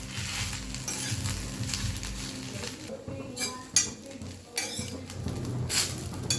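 Gongura leaves dry roast in a pan, a soft close sizzle with rustling stirs and a few light clinks of the spoon against metal, fading and returning in short bursts, no voices.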